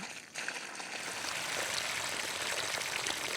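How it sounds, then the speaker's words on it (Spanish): Artificial heavy rain poured from a water tank through a hose, a continuous close hiss of falling water that starts abruptly and stays steady throughout. "Janine Rabe simulará ahora una fuerte lluvia con un tanque de agua y una manguera."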